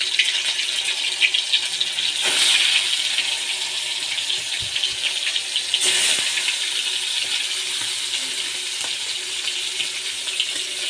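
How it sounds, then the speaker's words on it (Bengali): Chicken pieces hiss into hot oil in a pan, a loud, continuous bright sizzle that surges as each piece goes in, close up and without speech. "এখন আমি একটা একটা করে গোস্ত দিয়ে দিচ্ছি।"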